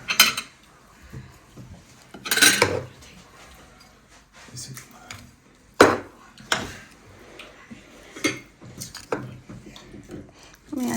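Plates and dishes clatter and clink as they are handled during a home meal, with several sharp knocks scattered between stretches of talk.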